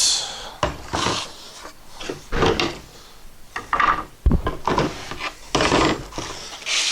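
Light hand sanding of a coated wooden pegboard, a series of short rough scraping strokes with irregular rhythm and pauses, close and alone.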